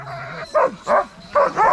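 Sled dogs in the snowy Grand Tetons barking in four quick, loud yips and woofs close by, separated by brief pauses.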